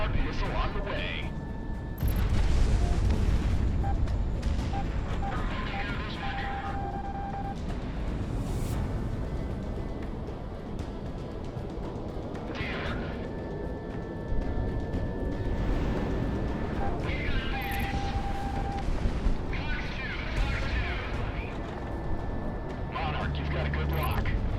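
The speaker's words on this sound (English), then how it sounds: "Monarch missile on the way." Project Wingman video game combat with a missile launch and explosions, sustained roaring jet and weapon noise and repeated blasts throughout, with game radio chatter running underneath.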